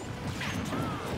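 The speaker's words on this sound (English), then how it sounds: "Two forward smashes already from Yolo" Forward smash attacks land in a Super Smash Bros doubles match, producing a quick sharp crash and whoosh amid busy game sounds, heard up close with no talk.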